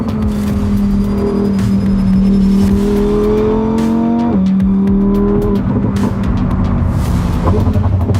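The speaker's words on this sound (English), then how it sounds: "The gear change is absolutely spot on." Lamborghini Huracan Tecnica V10 engine revving loud and close under acceleration, its pitch rising steadily then dropping sharply at an upshift before climbing again, with a continuous rumbling roar throughout.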